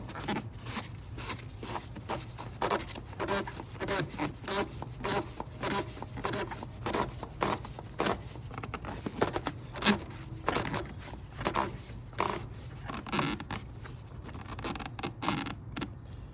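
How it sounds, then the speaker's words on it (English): New oil filter being installed on an Audi S4 B8.5, heard as close, quiet rubbing, scraping and light tapping of hands and parts in a fairly rapid irregular rhythm, with no talking. "you can proceed and install the new filter"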